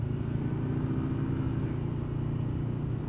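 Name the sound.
Yamaha Vmax motorcycle engine on the throttle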